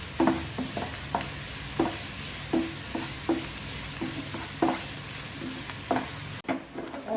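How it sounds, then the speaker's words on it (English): Onions sauteing in a pan for chicken keema, a steady soft sizzle broken by repeated scraping stirs of a spoon against the pan at an irregular pace, close and moderately loud, with no voices. "let the onions become golden brown. Until then we have to saute this."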